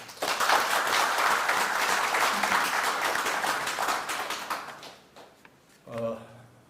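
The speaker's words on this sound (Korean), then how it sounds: "큰 박수가 필요합니다." Audience applause at a defense industry society breakfast forum, a sustained wash of clapping for about five seconds that fades out, followed by a voice speaking.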